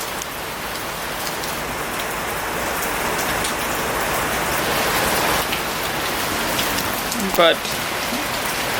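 Heavy rain from Hurricane Dorian pours steadily on surfaces around a house, a loud continuous hiss with a brief louder burst near the end; a voice speaks one quick word.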